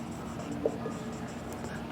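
Soft, steady scratching of writing during a maths lesson on rational numbers, faint and close, with a couple of light taps and no clear talking.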